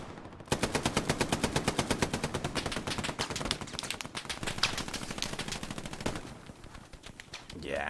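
Sustained machine gun fire rattles in rapid, steady bursts during a tournament match of the video game Hell Let Loose, loud and close, with the rhythm breaking briefly before resuming.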